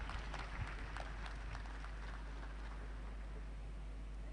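Applause for the President at a Nigerian scientific conference's general assembly session, a distant crowd clapping in a steady patter that starts a little fuller and then evens out over a low hum.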